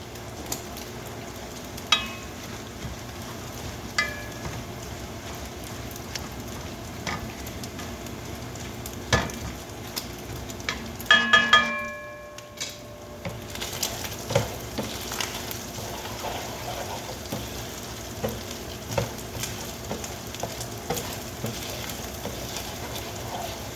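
Spinach and sausage frying in a pan, a quiet continuous crackle with scattered ticks and clinks, plus a brief louder clatter and surge of sizzle near the middle.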